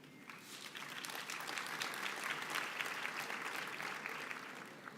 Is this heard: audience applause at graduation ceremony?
yes